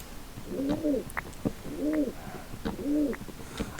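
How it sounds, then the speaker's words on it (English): Doves cooing in the zoo video game Mageville Zoo, three evenly spaced soft hooting coos over a quiet background with faint clicks and small chirps between them. "Doves, of course."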